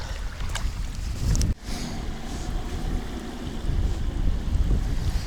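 A fisheries inspection motorboat passes on the Dnieper river near a beach, its engine a steady distant drone blended with wind buffeting the microphone and lapping water, with no voices.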